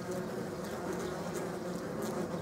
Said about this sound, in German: Nicht so hektisch wie die Wespen. Die fliegen ruhiger, die Hornissen.